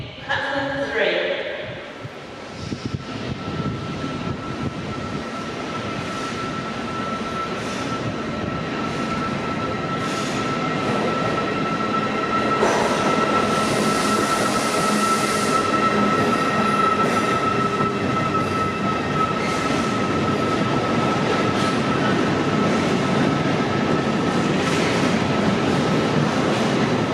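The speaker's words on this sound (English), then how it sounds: "The train now approaching platform 3" The Midland Pullman rolls into platform 3 at Carlisle station with a rising rumble of wheels on rails and a sustained metallic squeal, while a public-address voice and platform chatter sound in the background.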